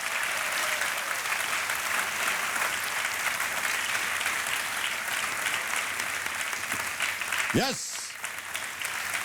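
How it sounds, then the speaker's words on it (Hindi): Studio audience on a televised quiz show breaks into sustained, steady applause filling the room, with a host's voice briefly speaking over the clapping near the end. "जोरदार ताली बज जाए इनके लिए"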